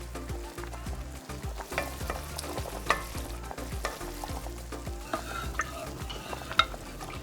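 Spaghetti bolognese sizzles in a pan while a spoon stirs it, soft steady frying with repeated scraping strokes and light clinks throughout, close and fairly quiet with no talk.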